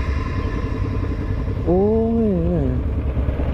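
A big motorcycle at a Sunday-morning superbike ride gathering fires up mid-clip, its engine note sweeping up and settling over a steady low rumble of other idling machines, with a brief spoken word earlier.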